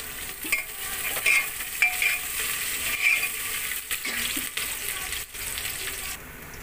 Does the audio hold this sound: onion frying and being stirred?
yes